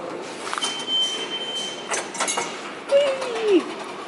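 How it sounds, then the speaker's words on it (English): PATH train moving through a busy subway station, a steady rumbling wash with brief metallic squeals and a sliding tone near the end, heard from a distance amid crowd noise. "The above view of a very busy subway station / path train."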